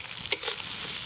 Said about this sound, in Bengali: এবার এর সাথে মাংসটাকে ভাজব।